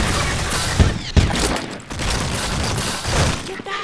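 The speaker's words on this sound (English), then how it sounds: "I'm hearing a lot of snipers." Rapid gunfire from a Counter-Strike: Source sci-fi mission, dense and loud, with two sharper cracks standing out early amid continuous shooting.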